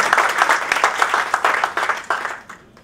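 An audience at an Akhil Bharatiya Sangeet Sandhya music evening claps loudly to welcome a singer. The applause is dense and sustained, with bursts of claps, and it fades out toward the end.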